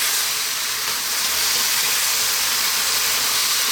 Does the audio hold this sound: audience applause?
no